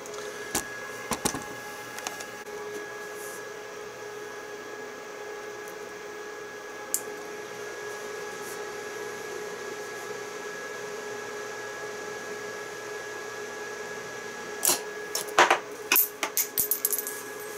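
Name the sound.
DIY cartridge case annealing machine running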